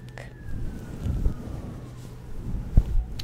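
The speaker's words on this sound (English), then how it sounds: "There's always a siren." A distant siren wails faintly outside, its tone slowly gliding downward beneath low rumbling wind noise and a couple of soft thumps.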